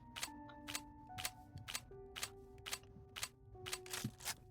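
A gun is reloaded in a Minecraft modpack game, producing a quick series of sharp, faint mechanical clicks and clacks at an irregular rhythm against a low, quiet background.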